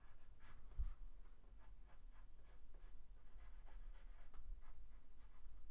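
Pencil scratching on paper during a live sketch of a Legend of Zelda character, with short strokes and hatching recurring steadily, close and quiet, alone.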